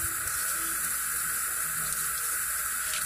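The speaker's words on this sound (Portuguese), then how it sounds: "E vamos enxaguar." Running water pours steadily and continuously as bleached hair is rinsed, a close, even hiss with no talking.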